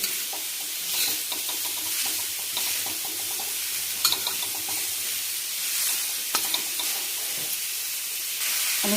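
A spoon stirs food in a pan after salt is added, giving a steady hissing sizzle with scattered scraping clicks and a few sharper knocks, moderately close, with no voices.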